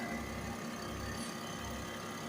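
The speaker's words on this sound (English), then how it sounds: "Now with the engine running, we're going to put some more fluid in" A BMW 335d diesel engine idles at a steady, faint, low hum with an even mechanical drone and no talking.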